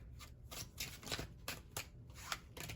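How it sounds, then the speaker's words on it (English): Tarot cards are shuffled in quick repeated riffles, crisp papery flutters close by, several bursts in a row with short gaps. "Let me just go ahead and shuffle up the tarot cards really quick."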